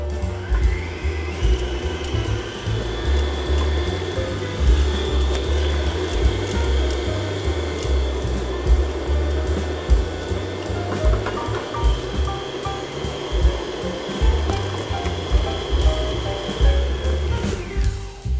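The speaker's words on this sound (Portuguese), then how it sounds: "ligo a batedeira e vou adicionando os ingredientes" Electric stand mixer beating cake batter for a Brazil nut naked cake, a steady continuous motor whir with a slightly rumbling, churning texture, running close and loud for the whole stretch with no talk.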